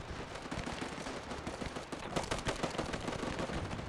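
Rapid rifle and machine-gun fire crackles through a World War One battle in Between Empires WW1, loud, continuous bursts of sharp shots overlapping with no pauses.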